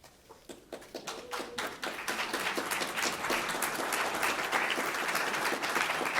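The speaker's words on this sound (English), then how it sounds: "I would like to ask my classmates to stand up and applaud those who have supported you throughout this journey" An audience at a nurse anesthetist diploma and awards ceremony applauds, starting with a few scattered claps that swell within two seconds into full, sustained applause from many people.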